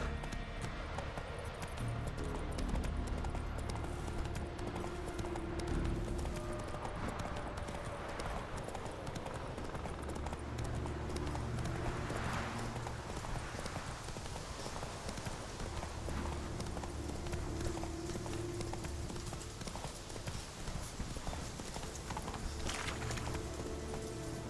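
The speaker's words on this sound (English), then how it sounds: "Run, Roach." A horse gallops in The Witcher 3 video game, a steady rhythmic clip-clop of hooves running continuously at close range over faint background music.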